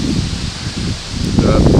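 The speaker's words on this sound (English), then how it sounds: "I know this camera's not going to work very good in the wind." Wind gusts buffet the microphone at an outdoor campfire, a loud rumbling rush that swells and dips over a couple of seconds.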